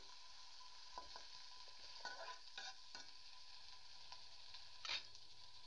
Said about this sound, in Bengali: এখন এই তেলের ভিতরে আমি পেঁয়াজ ভাজা দিয়ে দিচ্ছি।